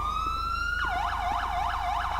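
A modded police car siren in GTA 5 starts as a steady high wail, then switches to a fast rising-and-falling yelp, loud and continuous, with a low engine hum underneath.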